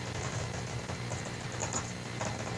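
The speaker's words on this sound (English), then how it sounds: "there's just a recording of me typing like really quickly." Fast typing on a computer keyboard, a dense stream of quick clicky keystrokes under a steady hiss of background noise, close and continuous, with no talk.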